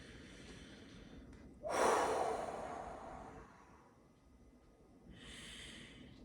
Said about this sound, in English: take another deep breath and relax